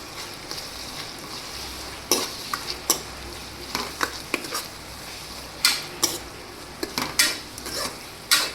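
Cabbage sabzi cooking in a pan, with a spoon stirring and scraping against the metal in irregular clinks and scrapes over a soft, steady sizzle.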